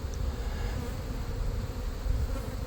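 Honeybees buzz in a dense, continuous drone during an outdoor hive removal, steady and close with no pauses.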